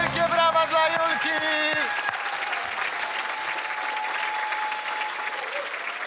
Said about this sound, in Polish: Wielkie brawa dla Julki!